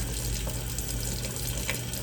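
Cold tap water runs steadily over freshly boiled eggs at a kitchen sink, a constant close hiss and splash with no talk.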